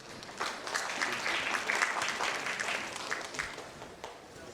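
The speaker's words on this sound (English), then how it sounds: "Please welcome him with a huge round of applause." Summit audience applauding to welcome a speaker, a moderate crowd clapping that swells quickly, holds steady and thins out toward the end.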